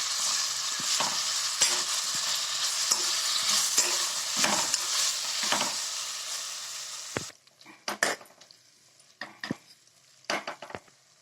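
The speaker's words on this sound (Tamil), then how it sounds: "இப்போ எடுத்து வச்ச தக்காளியும் பச்சை மிளகாயும் சேர்த்துக்கோங்க." Tomatoes and green chillies sautéing in a pan for a veg salna, with a steady loud sizzle and repeated stirring scrapes, then the sizzle drops away and leaves sharper intermittent spoon-against-pan knocks.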